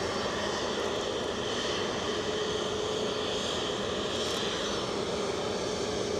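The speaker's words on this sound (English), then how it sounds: "United Airlines 757-200, inbound from New York, Newark, is now on final approach." United Airlines Boeing 757-200 jet inbound from Newark on final approach, a steady broadband engine roar that holds at a constant level throughout, with no voices.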